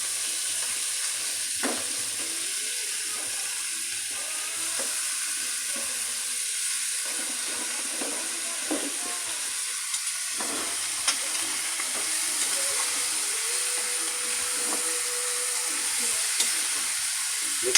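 Stingray pieces frying in a pan, a steady sizzle with occasional stirring scrapes and clinks, close and continuous, without talking.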